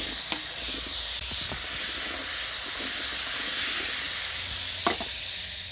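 Potatoes fry in hot oil in a kadai with a steady, close sizzling hiss, broken by a few soft knocks of stirring.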